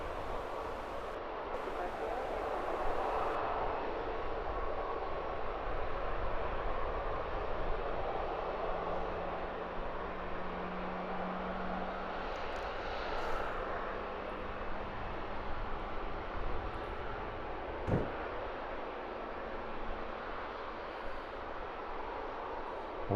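An EasyJet airliner bound for Paris takes off from Luton Airport, giving a broad distant roar that holds steady for over twenty seconds while a commentator talks over it.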